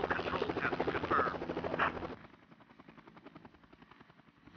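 A military helicopter in the Vietnam-era combat flight game Air Conflicts: Vietnam gives a steady rapid rotor thump with engine whine, loud at first and then suddenly dropping to a quieter, more muffled level.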